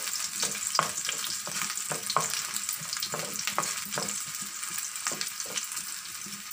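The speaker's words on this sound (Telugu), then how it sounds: "ముందు కొద్దిగా వేయించుకోవాలి." Dried prawns sizzling in a pan as a spoon stirs them, soft scrapes and clinks over a steady frying hiss, close up and moderately quiet, with no voices.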